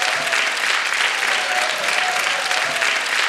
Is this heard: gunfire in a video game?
no